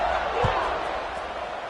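A stadium crowd roars in a College Football 26 game of Wake Forest against Georgia Tech, a steady loud wash of cheering noise with a brief thump near the start.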